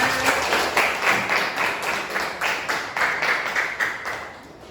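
A classroom of pupils claps for a teacher's presentation, steady broadband applause that pulses in waves across the whole stretch, fairly close and moderately loud, with no speech over it.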